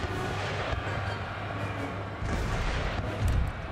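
Cannon fire in the strategy game Empire: Total War battle against native forces, low rumbling booms rolling over a dense, continuous battlefield din, moderately loud and fairly distant, with no voices.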